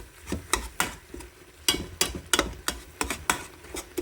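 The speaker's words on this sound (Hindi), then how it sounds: "अब हम इसको ऑयल डाल के भून लेंगे।" Spice masala paste being fried in oil, with a utensil repeatedly scraping and knocking in the pan, giving about a dozen sharp, evenly spaced strokes over a soft background sizzle, close and fairly loud, with no voices.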